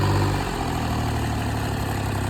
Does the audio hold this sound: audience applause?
no